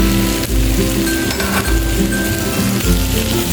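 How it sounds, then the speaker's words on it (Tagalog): Squash sautéing with other vegetables in a hot pan: a loud, continuous sizzle and frying hiss with faint clinks of utensils against the pan. "So igisa natin ang ating kalabasa kasama ang ating mga ibang mga veggies na ginisa natin kanina"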